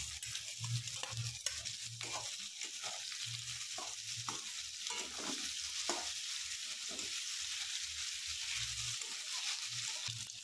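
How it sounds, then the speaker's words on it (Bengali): Boneless chicken pieces fry in a hot pan for chowmein, a steady close sizzle with occasional stirring scrapes and light clatter throughout. "এবারে চিকেনগুলো এর মধ্যে দিয়ে দিলাম।"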